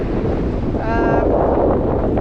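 Steady, loud wind buffeting the microphone on the Isle of Skye, a continuous broadband roar with no gaps and a faint tonal whistle partway through.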